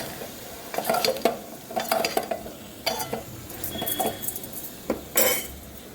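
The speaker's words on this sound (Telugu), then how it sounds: "తగినంత ఉప్పు వేసేసుకొని ఒకసారి కలబెట్టుకోవాలి." Eggplant and chana dal curry stirred in a metal pan, with a spoon scraping and clinking against the sides in a handful of irregular bursts amid a faint sizzle, close up and without talk.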